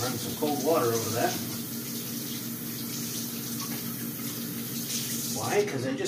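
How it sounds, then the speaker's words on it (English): Cold tap water running over freshly cut food in a home kitchen, a steady hiss through the clip while someone talks over it at the start and end. "Just run some cold water over that."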